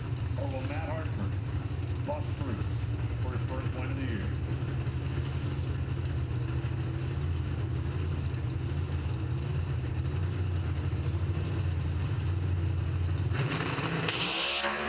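Two Chevrolet Pro Stock drag racing cars idle with a steady, loud, low engine rumble as they inch into the staging lights at a drag strip. An announcer talks over the engines throughout, and the revs swell near the end.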